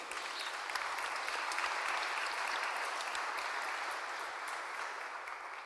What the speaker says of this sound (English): Everyone, please give them a good, big round of applause.